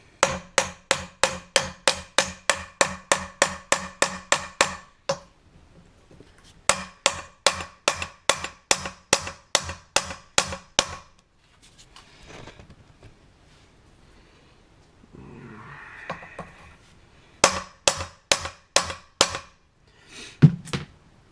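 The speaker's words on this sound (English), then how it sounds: "I've got a 17mm impact socket here, and just start tapping away" A hammer strikes a 17mm impact socket held against the cap of a Ford Ranger U-joint: bursts of rapid, evenly spaced sharp metallic taps, close and loud, broken by short pauses and a quieter stretch, then another quick run of blows.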